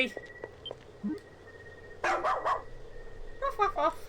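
A dog barks in the video game Ys: Memories of Celceta, two short bursts of several yips each with a gap between, close and clear over a faint steady game tone.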